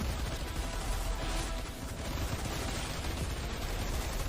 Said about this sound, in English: It sounds like a light machine gun.